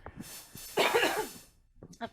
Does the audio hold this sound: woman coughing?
yes